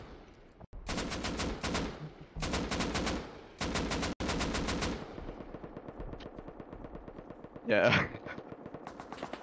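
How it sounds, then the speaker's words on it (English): Rapid automatic gunfire from an M2 machine gun in a multiplayer video game, long sustained bursts broken by short gaps, loud and continuous, followed by quieter scattered firing and a brief harsh burst near the end, with a voice speaking briefly. "Who was shooting M2 at that guy?"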